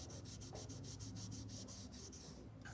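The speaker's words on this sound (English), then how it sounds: "I'm also sanding finish around it" Sandpaper rubbing over a finished wooden guitar headstock: a steady, close scratching in quick back-and-forth strokes, faint and continuous with a brief pause near the end.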